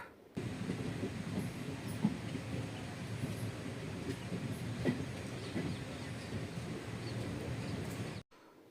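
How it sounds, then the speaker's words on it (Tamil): Semmozhi Express train pulling into Mannargudi station, heard from on board as a steady rumble of rolling wheels and carriage noise with faint clicks, continuous and fairly loud throughout. "நம்ம வண்டி மன்னார்குடி ஸ்டேஷனில் என்டர் ஆகிட்டு இருக்குங்க"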